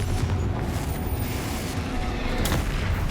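Spell-blast clamor from Hogwarts Legacy combat, with the Confringo fire spell cast amid dense, continuous booming and crackling bursts, loud and unbroken for about three seconds, with a sharper burst near the end.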